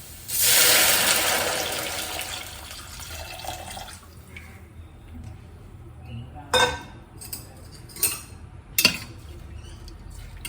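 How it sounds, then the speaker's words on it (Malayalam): Two glasses of water pour into a cooking pot in a home kitchen. A loud splashing gush lasts a couple of seconds, then fades to small trickles, followed by a few sharp clinks of utensils against the pot. "ഇനി നമുക്ക് ഇതിലേക്ക് എന്ത് ചെയ്യാം, വെള്ളം ഒഴിക്കാം"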